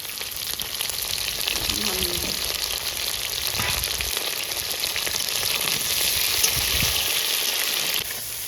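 Masala sautés in a pan, giving a steady, close sizzle that runs unbroken for the whole stretch with a faint stirring underneath.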